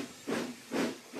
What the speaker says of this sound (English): Thomas is a steam engine.